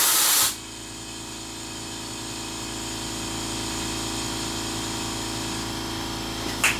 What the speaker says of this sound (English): I slowly open the valve part way so I can control how fast the air goes in.